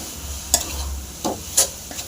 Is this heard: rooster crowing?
no